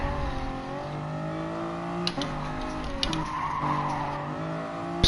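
Race car tires skid and squeal in Gran Turismo Sport, a sustained screech over a droning engine, with sharper squeal bursts near the middle and end, close and loud, no talk.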